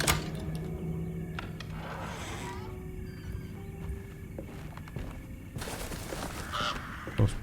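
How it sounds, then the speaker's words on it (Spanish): Bird calls from the Alone in the Dark video game, mostly harsh crow-like caws at irregular intervals, over a low murmuring ambience with occasional louder bumps. "Los pajaritos."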